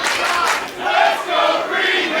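A wrestling crowd at a Limitless Wrestling event in Maine cheers and chants loudly, a dense roar of many voices rising and falling in waves over a couple of seconds.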